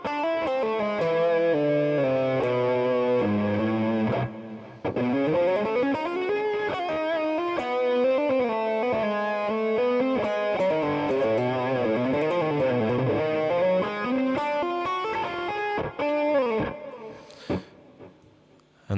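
A distorted electric guitar plays a lead line through an amp-modeler capture, sustained overdriven notes bending and sliding in a continuous melodic phrase, loud and close, fading out with a few scattered final notes.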